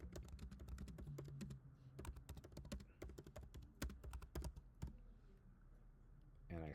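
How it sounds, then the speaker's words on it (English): Fast, irregular typing on a computer keyboard while entering text into a file in VS Code, close and crisp, with bursts of clicks and short pauses and no talk. "So if I just type something into the body here"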